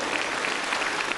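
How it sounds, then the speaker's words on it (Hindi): An audience applauds parents at a gathering, dense steady clapping from a large crowd filling the short moment at constant loudness. "एक बार इनके लिए जोरदार ताली बजा दो भाई"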